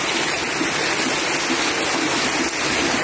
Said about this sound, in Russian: Вот током люди выливают воду, видите?